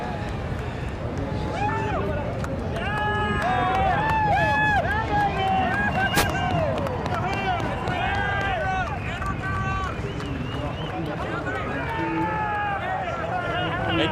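At a NASCAR Canada Series road race at Circuit Trois-Rivières, a crowd cheers and roars as the driver climbs out of his car. The crowd noise is loud and sustained, with rising whoops and shouts and gusty wind buffeting the microphone.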